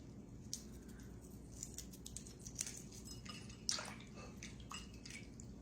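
Boiled egg being peeled while dipped in a bowl of water, with soft wet drips and squishy splashes over a steady low background hum, faint and close.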